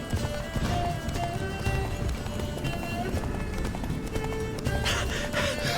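Roach the horse galloping in The Witcher 3, steady clip-clop of hooves running under continuous game music and ambience, with a brief whinny-like burst near the end.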